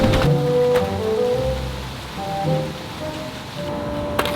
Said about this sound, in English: the weather decided to play another trick on us. Is that rain?